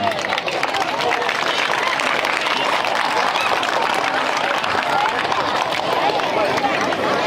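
A crowd of children at a Kargil Vijay Diwas event in Adoni clapping and cheering, a dense, loud and continuous roar of applause filling the whole stretch.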